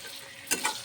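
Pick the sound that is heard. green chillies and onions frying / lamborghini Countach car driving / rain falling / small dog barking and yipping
green chillies and onions frying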